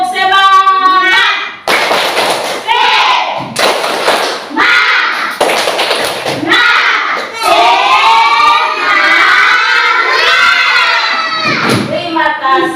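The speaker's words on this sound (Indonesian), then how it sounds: "mari kita bersama-sama melakukan tepuk semangat agar kita lebih bersemangat lagi" A primary school class performing tepuk semangat, a rhythmic spirit clap: patterned bursts of hand claps and thumps interleaved with children chanting and shouting together in a classroom, loud and close.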